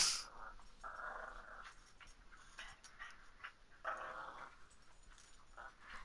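Dogs indoors give low growls and soft whines, faint and intermittent, over a quiet room with a video game running.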